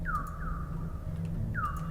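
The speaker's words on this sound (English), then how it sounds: "It's just the sound the rover makes whenever it moves." A Mars rover in a video game gives repeated electronic beeps as it moves, two chirps close together and a third after a pause, over a steady low engine-like hum, with no talking.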